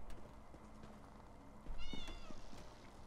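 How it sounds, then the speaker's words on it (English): A cat meows inside Elder Scrolls Online, a single rising, wavering call that starts about midway and stands out over a steady ambient game background. "Oh my god, there's a cat."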